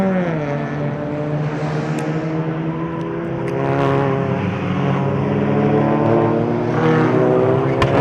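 Race car climbing a hill during a circuit race at a regional motorsport festival, heard from onboard: a loud, steady engine drone with rising harmonic pitch as it accelerates, sustained throughout.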